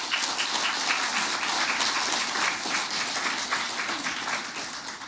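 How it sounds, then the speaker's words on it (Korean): An audience claps together in sustained, dense applause that holds at a steady level throughout and eases slightly toward the end. "여러분 박수 한번 주세요."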